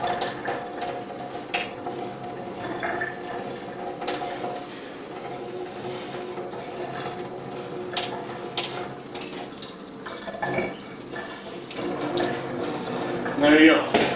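Tap water runs and splashes over a Berkey water filter element during priming, an uneven stream that keeps going with drips and faint clatter, and occasional low speech in the background.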